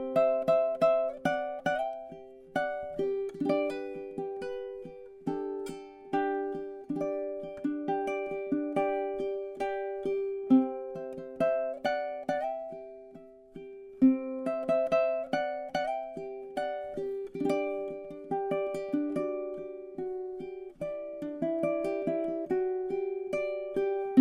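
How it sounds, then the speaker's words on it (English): A bright, soft high-G ukulele plays a picked and strummed chord pattern in C at a steady, unhurried pace, with no one talking. "I'm going to play it on my high G ukulele first"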